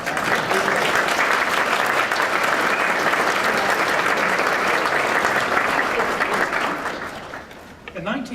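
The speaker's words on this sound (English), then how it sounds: "Let's give them all a round of applause." An audience at a writers' hall of fame induction ceremony applauds, loud sustained clapping from a large crowd that fades out near the end.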